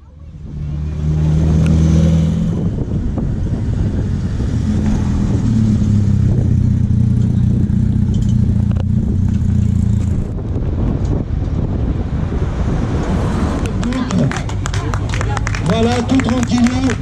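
Classic rally cars rev and pull away at the start line of a rally in Châtelaillon, with engines loud and steady. Strong wind buffets the microphone and an announcer speaks over the noise.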